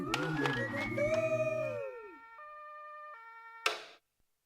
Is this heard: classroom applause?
no